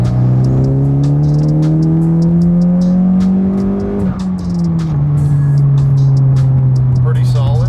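A 10th Gen Honda Civic Si on new wider wheels accelerates hard in third gear, loud close engine note climbing steadily in pitch, briefly dipping at a shift-like break, then holding a strong drone.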